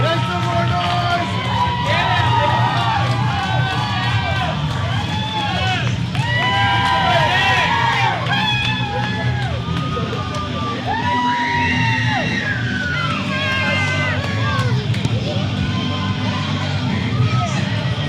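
A live wrestling crowd at an NWA Texoma championship match cheers, whoops and yells continuously, a loud, dense roar of many voices with individual shouts rising above it.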